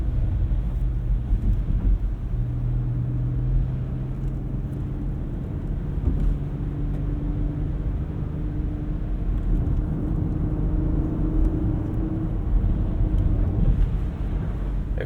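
A 2015 Porsche Macan Turbo engine drones at a steady, moderate level from inside the cabin, its pitch rising and stepping down across several gear shifts over a constant road rumble.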